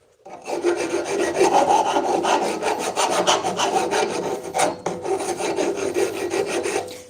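A hand file deburrs a freshly cut metal edge in a rapid, continuous series of close, loud rasping strokes that keep an even rhythm throughout, with no talking.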